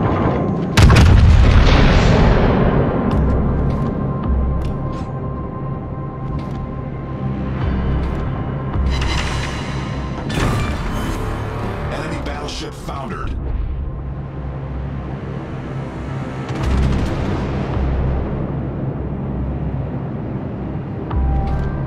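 Heavy booming gunfire from the battleship Vermont in a naval combat game, a huge opening blast followed by rolling rumbles and repeated distant salvos under a continuous engine drone, with game voice callouts.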